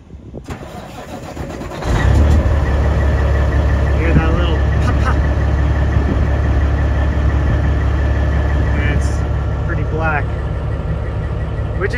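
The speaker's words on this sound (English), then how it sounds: "We're gonna try to listen for little pops out of the exhaust here." A truck engine cranks and catches, then settles into a loud, steady idle rumble close to the microphone, with faint voices in the background.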